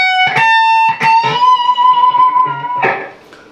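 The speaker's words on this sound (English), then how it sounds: "and then you'll hear the whammy bar" An electric guitar plays picked notes from a song, then a whammy bar bend holds and wavers a sustained note before a final attack, bright and effect-laden with a bit of distortion.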